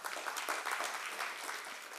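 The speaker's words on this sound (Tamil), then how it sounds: "திருப்பூர் கிருஷ்ணன் சாருக்கு ஒரு கைத்தட்டு கொடுங்க" Audience applause at a Kashi Tamil Sangamam 2025 talk on Agathiyar, a steady broadband patter of many hands clapping together for the full stretch, moderately loud and without speech over it.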